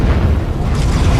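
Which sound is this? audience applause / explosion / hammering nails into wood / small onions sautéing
explosion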